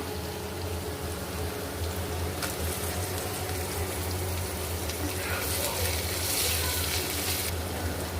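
Onions and green chilies frying in a pan while being stirred, a soft continuous sizzle with occasional scraping, fairly quiet, with a brief louder hiss partway through and faint background voice.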